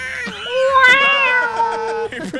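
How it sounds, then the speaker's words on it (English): A cat gives one long drawn-out meow, close and loud, rising then sliding down in pitch, with a short extra cry at the end. "Oh no, it's the cat."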